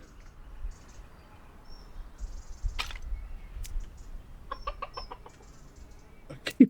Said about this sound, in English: I keep hearing chickens